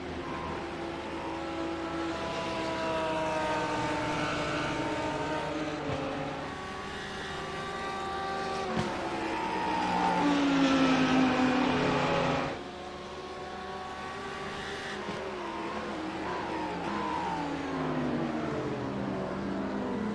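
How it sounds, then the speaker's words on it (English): GT3 race cars at Sonoma Raceway braking into a corner and accelerating out, engines droning loudly at a distance with rising and falling pitch sweeps as they downshift and power away. "Hard on the brakes, back on the gas through the horseshoe."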